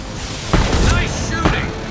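Mass Effect 2 gunfire on Insanity difficulty: two sharp booming shot bursts, roughly a second apart, crack over a dense, busy combat mix with faint voices in the background.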